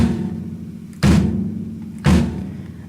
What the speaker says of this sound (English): Now the bass drum is played with this pedal attached to it here on the bottom